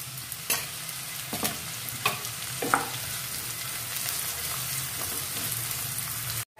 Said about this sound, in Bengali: পেঁয়াজগুলোকে এবার একটু ভেজে নিতে হবে।